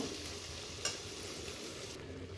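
Mutton muthiya sautéed in spiced masala gives a faint, steady sizzle with a single clink of a utensil partway through, heard close up with no voices.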